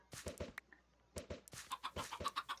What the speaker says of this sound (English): There's so many loose chickens.